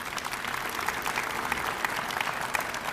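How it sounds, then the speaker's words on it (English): An audience gives a round of applause, even, sustained clapping heard at moderate distance and fairly soft. "that deserves a round of applause."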